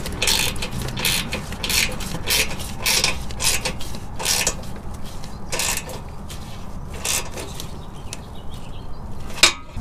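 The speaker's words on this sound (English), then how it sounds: "I can actually get this sucker in here with a 9/16 socket and have enough room to where I could spin the handle and tighten up all these bolts" A ratchet with a 9/16 socket tightens bolts on a CBI hybrid bumper during a Warn M8000 winch install, giving close, repeated rasping clicks in uneven bursts.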